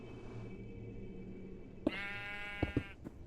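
Sheep bleating in Minecraft: a loud, clear bleat with a harmonic tone rises over low background hum, followed by a few short thuds and clicks near the end.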